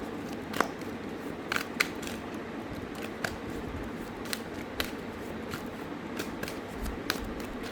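Tarot cards being shuffled by hand, a run of quick papery slaps and riffling clicks at irregular intervals over a soft steady background, close and without talk.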